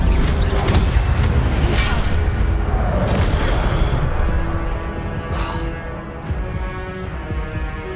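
Incendio fire spell cast in Hogwarts Legacy, a loud, dense whooshing burst of flame with booming thuds that rolls on for several seconds and then eases to a quieter crackle, with some voice mixed in.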